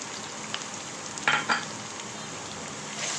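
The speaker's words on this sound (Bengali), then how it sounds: "এখন আমি পেঁয়াজ কুচি দিয়ে দিচ্ছি হাফ কাপ রসুন কুচি টু টেবিল স্পুন" Chopped onion and two tablespoons of chopped garlic frying in a pan with ground cumin for a jackfruit seed and chicken curry, a steady close sizzle with a couple of brief louder stirring scrapes, no talking.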